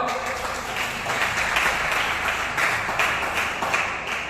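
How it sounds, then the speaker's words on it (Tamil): Applause rises from a church congregation during a sermon, a steady, moderately loud wash of many hands clapping together for several seconds, with a little voice underneath. "கையை தட்டு இல்லையா?"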